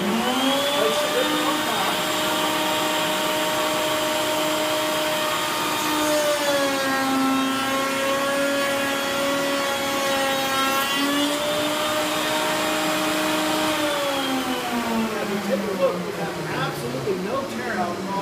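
Router bit cutting across wood grain with a zero-clearance gravity heel jig, a loud, steady high-pitched whine held for most of the clip, its pitch dipping slightly midway as the bit bites into the wood.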